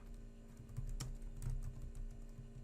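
Keystrokes on a computer keyboard as a command is typed into a Linux terminal, a short run of light clicks with a couple of sharper taps, close and alone with no talk.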